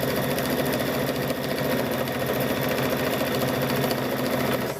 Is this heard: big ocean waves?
no